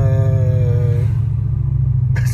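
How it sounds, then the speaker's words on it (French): Deep, loud rumble of a V10 car engine with a near-straight exhaust, a steady throbbing low burble under fading background music, with a short voice at the end. "D'entendre un V8, un V10, pardon, comme ça, quasiment en échappement libre"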